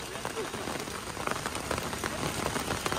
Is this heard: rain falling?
yes